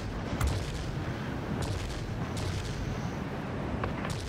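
Ho 229 aircraft guns firing in volleys during a World of Warplanes dogfight, a steady rumbling barrage with several sharper bursts standing out over the continuous engine and combat noise.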